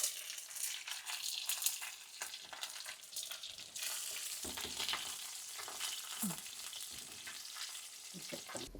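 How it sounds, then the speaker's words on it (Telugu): Garlic and dried red chillies tempering in hot oil, a close, continuous crackling sizzle with occasional stirring scrapes. "తాలింపుకి సరిపడా నూనె వేసుకొని వెల్లుల్లిపాయలు, ఎండుమిర్చి వేసుకొని అది బాగా వేగాక మిగతా తాలింపు దినుసులు కూడా వేసుకోవాలండి."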